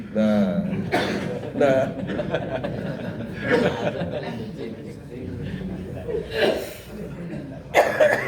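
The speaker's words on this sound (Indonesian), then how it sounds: "Nah, itu jenis salah satu jenis batuk unik." Several harsh coughs break out at intervals, mixed with chuckling and people talking.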